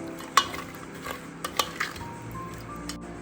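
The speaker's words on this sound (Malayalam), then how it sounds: "എല്ലാം കൂടി ഒന്ന് മിക്സ് ചെയ്ത് കൊടുക്കാം" A jackfruit seed and cucumber curry is mixed in a pressure cooker pot, with several sharp spoon clinks against the metal and soft wet stirring between them, fairly close and without speech.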